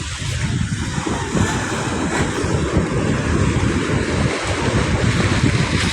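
Waves breaking against a sea dike by a highway under construction near the Bulacan airport, a continuous loud rumbling wash of surf mixed with heavy wind noise.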